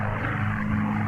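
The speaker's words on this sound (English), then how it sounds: "Oh, God, that startled me. That was the plane." Propeller airplane passing overhead in the Martha is Dead video game, a steady loud low engine drone with strong tonal hum, continuous throughout and unaccompanied by voices.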